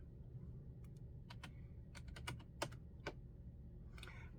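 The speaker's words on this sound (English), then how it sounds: "I'm going to type in Canadian" Close, quiet keystrokes on a computer keyboard, a short irregular burst of about a dozen taps over a low background hum.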